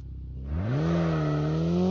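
A car engine revs up in Call of Duty Mobile. It starts as a low idle, then climbs in pitch to a sustained, loud drone for under two seconds, with no speech.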